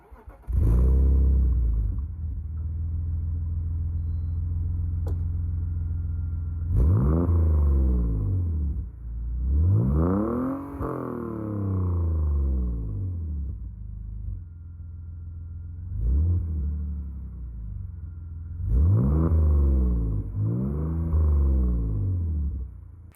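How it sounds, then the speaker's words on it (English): A BMW E46 325i engine revs repeatedly in bursts through an aftermarket exhaust, rising to a throaty roar and dropping back to a deep idle between each rev. "here is a clip of how the exhaust sounds"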